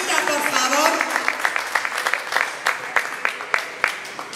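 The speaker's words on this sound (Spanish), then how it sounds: "Que quiero que te den un fuerte aplauso." Audience applause for a child model at a youth talent gala runway show in Gran Canaria, a dense burst that thins into scattered, fading claps with a voice speaking briefly over the start.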